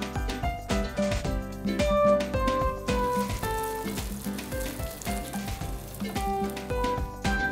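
Aloo paratha fries in oil in a pan, a steady crackling sizzle heard alone and up close.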